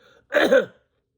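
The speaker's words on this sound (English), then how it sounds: "Oh, I had a cough." A single short, rough cough close to the microphone, followed by silence.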